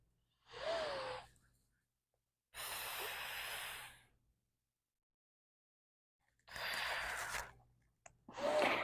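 A person takes deep, loud breaths close by during a stretching exercise, giving four long airy inhales and exhales separated by quiet gaps.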